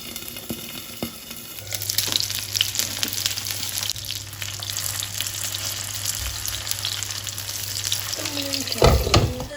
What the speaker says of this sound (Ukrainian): ми собі підсмажуємо варенички